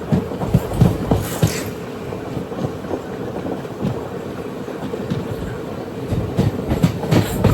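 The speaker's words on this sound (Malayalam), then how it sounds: "കൊല്ലങ്കോട് റെയിൽവേ സ്റ്റേഷനിലേക്ക് ഇതാ ട്രെയിൻ എത്തുകയാണ്" The Palakkad–Tiruchendur Express runs on rails near Kollengode railway station, its wheels giving a rhythmic clickety-clack over the joints amid a loud, rumbling roar heard from inside the coach.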